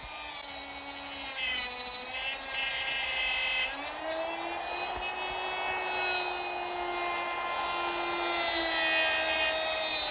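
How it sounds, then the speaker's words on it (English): A router fitted with a dovetail bit and guide collar whines at a high, steady pitch as it cuts dovetails in wood, the tone dipping slightly under load, close and loud throughout. "using my router with a dovetail bit and a little collar, I'll get perfect dovetails every time"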